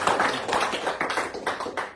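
A church congregation claps for God in a short run of close, fairly loud hand claps with a loose rhythmic pattern.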